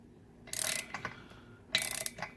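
Wrench ratcheting as a nut is tightened on the drive sprocket of a 66cc engine: two close bursts of rapid metallic clicks, each about a third of a second long, with a few softer clicks after each, near and fairly loud.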